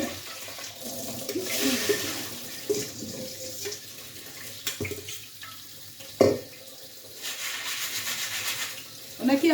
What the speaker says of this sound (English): Water flow in the kitchen here.